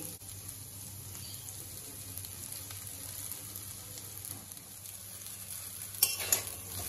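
Chowmein noodles stir-fried with egg and vegetables, restaurant style, a low, steady sizzle close by, ending with a couple of sharper utensil clinks near the end.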